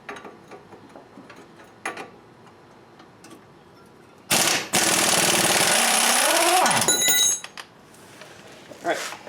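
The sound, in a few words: impact wrench removing MK4 Jetta strut bolt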